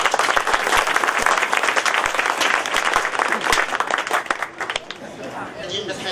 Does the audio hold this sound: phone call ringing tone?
no